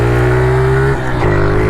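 A small pit bike engine runs close by on its first ride, a steady droning hum that dips briefly and then climbs back to its earlier pitch, with no talking.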